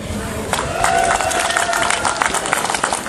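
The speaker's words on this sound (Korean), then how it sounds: "박수 한번 치세요." An alumni audience at a school reunion sports day claps together in a loud, dense burst of applause, with crowd murmur mixed in throughout.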